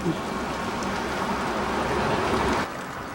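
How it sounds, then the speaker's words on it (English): Steady rain falls hard near a glacier and waterfall, a dense, even hiss that holds for about two and a half seconds and then eases slightly at the end, with no voices. "it's starting to rain pretty hard here"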